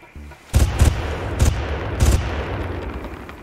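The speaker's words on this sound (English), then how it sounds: "I knew I was getting shot up from up there." Gunfire raining down from above in the video game Far Cry: a few loud, booming single shots spaced irregularly, each followed by a rumbling echo that trails off into a steady outdoor ambience.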